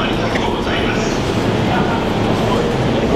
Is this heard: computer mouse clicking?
no